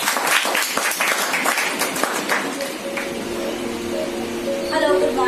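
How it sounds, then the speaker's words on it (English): Audience members clap for a young woman about to give a talk on using time, a brisk round of applause that is strongest at first, then eases off as a voice begins to come through near the end. "Please big round of applause."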